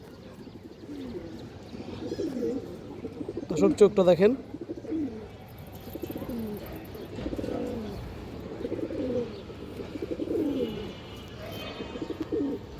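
Female Aphsan Bagha pigeons coo in a repeated, rolling low rhythm, close by and moderately loud, while someone talks over part of the cooing and a brief brighter flutter cuts in near the middle.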